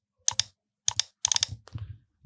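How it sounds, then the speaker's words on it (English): Crisp clicks from computer keyboard keys, in a few separate quick double taps followed by a short burst of presses, close and clear in a quiet room. "hit Ctrl J on my keyboard"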